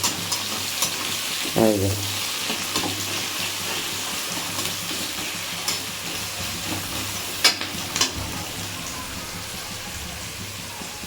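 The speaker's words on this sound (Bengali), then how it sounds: "তেলটা গরম হয়ে গেছে, এই যে দিয়ে দিলাম পেঁয়াজ। চলুন পেঁয়াজটা লাল লাল করে ভাজা হোক বন্ধুরা" Sliced onions hit hot oil in a pan and fry with a steady, close crackling sizzle, broken by a few utensil knocks and scrapes and a brief spoken phrase.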